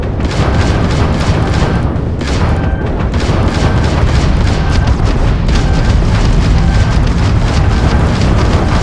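Sustained, loud barrage of booming auto cannon fire in the space combat of the video game Starfield, dense rapid blasts repeating without pause, with no talk over it.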